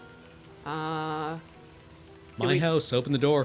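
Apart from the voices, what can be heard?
rain in Blue Prince video game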